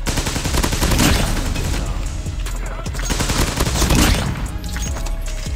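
Rapid gunfire from Call of Duty Mobile gameplay, dense bursts of shots and booms running continuously with louder peaks near one and four seconds, under occasional speech.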